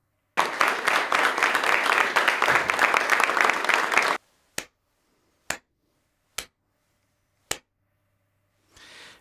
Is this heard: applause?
yes